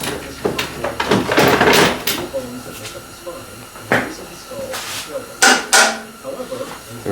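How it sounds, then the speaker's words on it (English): A hammer strikes parts during the teardown of a Foxbody Mustang 5.0 engine. Several sharp, separate knocks ring out in a garage, mixed with people talking and the clatter of handling tools. "Need some hammer action."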